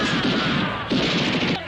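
Dense burst of gunfire sound effect in a wartime scene of Indonesian fighters storming a gate under colonial fire, a continuous loud crackling volley of shots close and filling the whole moment.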